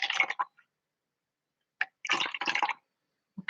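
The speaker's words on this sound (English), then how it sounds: "So I'm going to add a little bit of water to this" Small splashes of water being added to paint in two short bursts, with brief drips in between, close and fairly quiet against silence.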